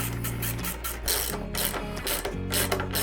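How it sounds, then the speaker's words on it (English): Ratchet wrench tightening the top bolts of a Shad 3P luggage rack system on a Kawasaki Vulcan S motorcycle, clicking in rapid continuous bursts up close and loud throughout. "we can tighten up the bolts up at the top."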